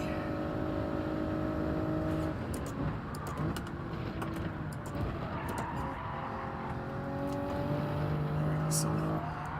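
A Toyota Supra driven hard in Gran Turismo 7 through a corner, its engine droning and shifting pitch continuously, with a voice talking over the racing noise throughout.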